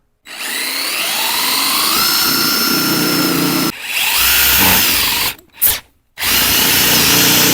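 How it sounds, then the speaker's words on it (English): A power drill bores a hole through aluminum on an RV, a loud close whine rising in pitch as the motor spins up, then a brief stop, a short burst, and a final pause. "go ahead and get a hole drilled so I can get my jigsaw in there"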